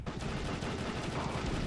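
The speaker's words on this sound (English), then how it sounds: "I want to take out the guys first with simple chain gun for the dudes" Rapid chain gun fire from the helicopter video game Soviet Strike, a dense, continuous burst of automatic shots that stays loud and steady with no pauses, a mix of game sound effects and background music.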